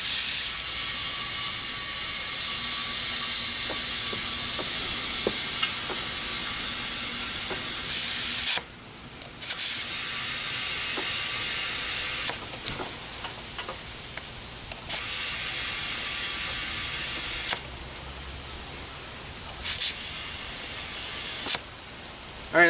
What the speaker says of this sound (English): got the four-wheeler out, and now gotta pump up the tire